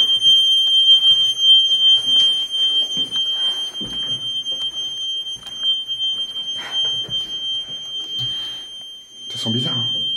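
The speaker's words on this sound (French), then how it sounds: "Ouais, c'est le détecteur." A detector alarm goes off inside a supposedly haunted house, a steady high electronic tone holding throughout while people talk over it and move about nearby.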